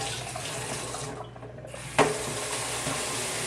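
Water runs steadily from a tap to measure tablespoons for a mouthwash plant spray against powdery mildew, a continuous close rushing stream with a brief interruption and a small clunk midway.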